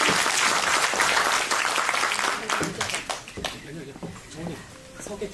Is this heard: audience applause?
yes